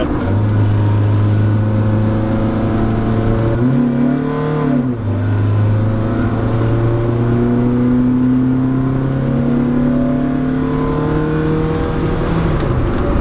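A Honda EG hatchback's engine drones steadily, its pitch rising and falling as it shifts, accelerates and takes corners, loud and close throughout with no talking.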